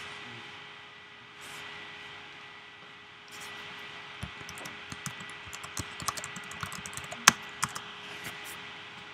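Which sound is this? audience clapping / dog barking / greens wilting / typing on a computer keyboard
typing on a computer keyboard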